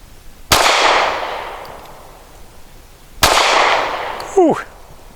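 Two sharp, loud gunshots from a SCCY CPX-2 pistol fired at a target, spaced a few seconds apart, each followed by a long decaying echo, with a short metallic ring after the second.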